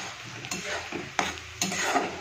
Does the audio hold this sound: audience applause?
no